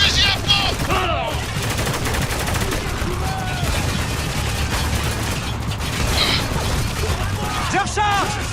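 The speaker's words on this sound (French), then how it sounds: "Ennemi juste au-dessus! Bordel, une embuscade! Il a un fusil à pompe!" Ambush gunfire in Spec Ops: The Line, with an enemy shotgun among the shots, sounds as dense, repeated bursts and mechanical clatter. Game voices shout over the shooting across the whole stretch.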